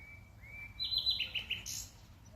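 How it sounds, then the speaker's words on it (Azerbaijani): A bird in an old, deserted park in Lankaran gives a brief run of high, clear chirps, repeated quickly in a short rhythmic burst against quiet outdoor ambience. "quşların səsi"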